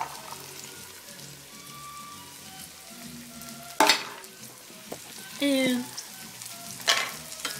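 Yellow and green zucchini and carrots fry in a pan, a soft continuous sizzle broken by several loud clattering thumps and scrapes as vegetables drop in and get stirred, with a brief spoken word.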